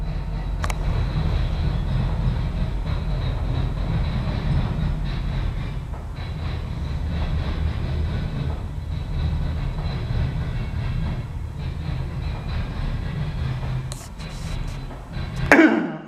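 Norfolk Southern southbound local freight train with a caboose moving backwards through Marion, Ohio, a steady low rumble of rolling cars nearby, with a brief cough and handling noise near the end.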